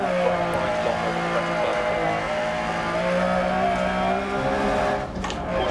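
A Lancia Stratos rally car in Dirt Rally revs hard and pulls away from a standing start, its engine note loud, close and steadily climbing and droning throughout.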